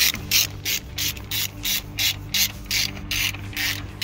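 A ratchet wrench tightens screws on a camper van in an even run of about ten sharp clicking bursts, close and steady, with no speech.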